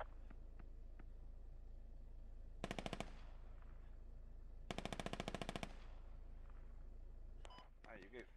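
Video game gunfire in a smoke-filled combat scene, heard as two rapid automatic bursts, each of about a dozen sharp shots lasting roughly a second, loud over a steady low background hum, with a few faint tones near the end.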